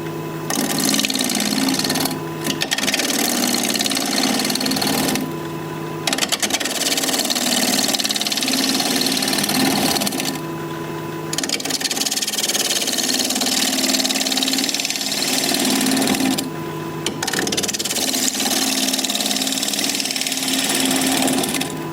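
Wood lathe spinning a bowl blank at 1100 RPM, worked with a 5/8 inch bowl gouge, giving a steady, loud motor hum with a tonal whine and cutting noise that drops out briefly at regular intervals.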